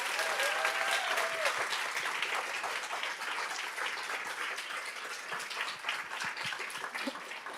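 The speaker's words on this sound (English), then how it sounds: "can we do another round of applause for Abila, Felicie, and Valeria, who deserve" Audience applause at a closing ceremony of a summer school in Lugano, a dense, sustained clapping from a crowd in a hall that continues at a steady level for several seconds, with no talk over it.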